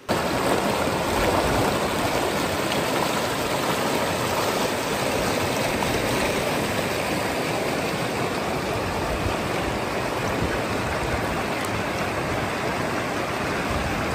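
The Indrawati river rushes past at Melamchi in Nepal, a loud, constant roar of flowing water that fills the whole stretch with no voices over it.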